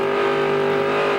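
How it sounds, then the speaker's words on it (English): A NASCAR Busch Series race car at New Hampshire runs with a loud, steady engine drone, its throttle briefly checked while pulling off a turn, continuous and close throughout. "You could hear Phil check up on the throttle as they started off turn 2 there."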